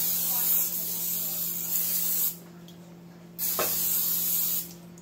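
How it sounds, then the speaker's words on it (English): Vegetable oil cooking spray hisses onto a frying pan in two bursts, loud and close, each lasting about a second or two with a quiet gap between. "you want to grab your spray or your vegetable oil, whatever. Something to stop the eggs from sticking to the pan."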